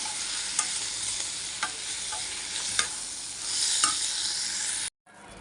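Bitter gourd and onion frying in a pan, with a constant sizzle and a few crisp scrapes as the spoon stirs. The sound swells briefly, then cuts off near the end, with no voices.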